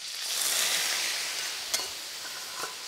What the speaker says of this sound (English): I'm kind of like shallow or deep frying this tofu to get that sort of crisp texture